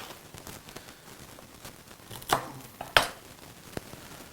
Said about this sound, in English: grab a couple of cloves of garlic here, and we're just going to dice those up